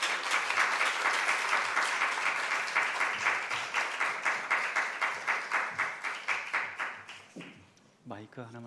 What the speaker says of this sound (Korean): 목사님 나오시도록 박수 한번 박수로 이렇게 모시겠습니다.